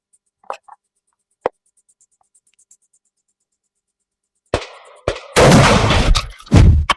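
Shotgun firing 00 buckshot at a target, a few sharp distant cracks early on, then a loud blast with rolling echo, followed by another report near the end.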